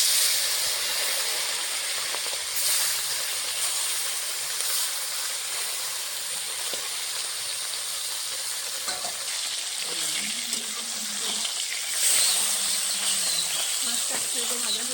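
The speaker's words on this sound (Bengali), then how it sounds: "মাছগুলো ভেজে নেব।" Bata fish fry in hot mustard oil in a wok, giving a steady, close sizzling hiss that runs throughout, with a faint voice briefly audible underneath.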